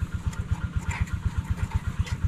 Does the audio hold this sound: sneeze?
no